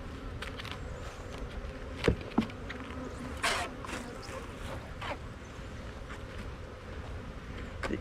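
Bees swarm in a hive box with a fully screened bottom, set on a trash can; a steady, close insect buzz runs throughout, broken by a few sharp knocks and faint background voices.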